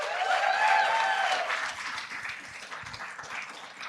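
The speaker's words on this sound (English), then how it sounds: "Another round of applause for all the entrepreneurs." Audience applause for entrepreneurs at a climatetech studio final showcase, a dense wash of clapping that starts fairly loud, then thins and fades over a few seconds, with a voice briefly audible in the crowd.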